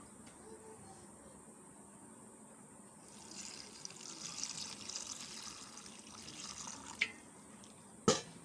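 Kulekhara leaves being washed in water, a soft steady trickle and splashing with a louder slosh and clatter near the end, faint and close.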